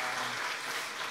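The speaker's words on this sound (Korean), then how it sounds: "우리 박수 한번 부탁드립니다." A church congregation applauding during a Sunday worship service, a dense, even wash of clapping from many hands, moderately distant, lasting about a second.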